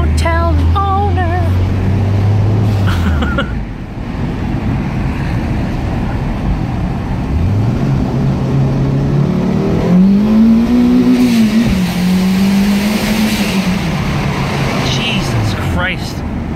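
A Mitsubishi Evo 1 revs hard through a tunnel, its engine climbing and falling in loud rising sweeps with several gear changes, echoing close by, while people talk over it.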